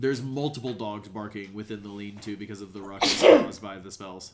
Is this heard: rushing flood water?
no